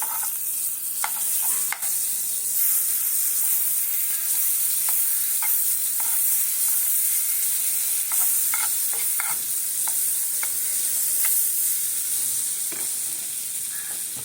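Butter sizzles steadily in a pan on a gas stove close by, with frequent light scrapes and taps of a spatula stirring throughout.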